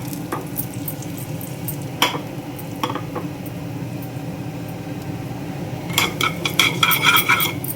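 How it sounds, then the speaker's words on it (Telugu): Mustard, fenugreek and cumin seeds temper in hot oil with a steady sizzle, a few utensil clinks, then a burst of sharp crackling pops near the end. "ఆయిల్ అయితే వేడైపోయింది. ఇదిగోండి ఆవాలు, మెంతులు, జీలకర్ర 3 కలిపేసుకుని పెట్టుకుంటానమాట"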